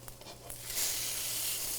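Caramelized French toast fries in a pan with a soft, steady sizzle that swells slightly after a moment, quiet and alone.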